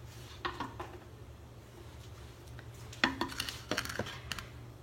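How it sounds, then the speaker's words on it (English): Fresh homemade pasta strands set onto a pasta drying rack, giving a few light clinks and taps, scattered early and then clustered near the end, over a steady low hum in a quiet kitchen. "Now I am going to put these on a pasta drying rack."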